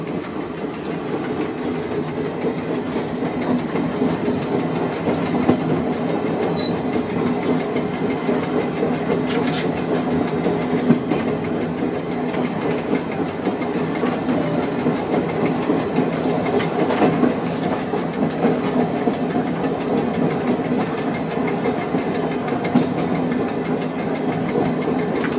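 The Byron Bay train, heard from inside the cab as it runs along the tracks, gives a steady engine drone with faint rhythmic clickety-clack of the wheels throughout, with no talk.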